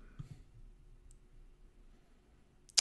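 A single sharp mouse click sounds close and crisp at the very end, after a brief faint click and near silence.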